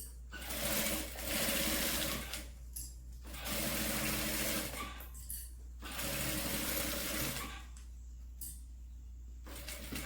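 Sewing machine stitching a zipper onto a fabric umbrella holder runs in three or four bursts of steady whirring, each a second or two long, separated by brief quiet pauses, close up with no voices.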